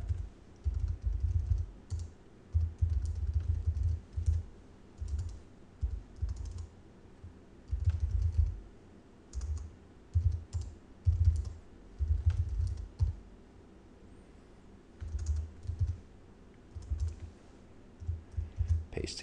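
Bursts of computer keyboard typing come in quick clattering runs separated by short pauses, close and fairly loud, with no talking over them.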